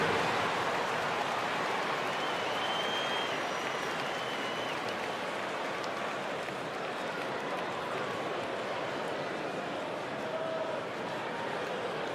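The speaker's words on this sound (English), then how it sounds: "Let's give them a round of applause for San Diego dancers." Crowd applause fills an indoor basketball arena for the San Diego dancers during an NBA 2K League playoff broadcast, a dense, steady wash of clapping and cheering that holds evenly throughout.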